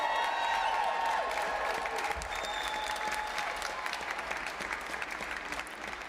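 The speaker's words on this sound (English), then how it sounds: "give yourselves a round of applause" Dense applause from a crowd at a data center moratorium rally, loud and continuous from the start with a few cheers mixed in, then slowly tapering over several seconds.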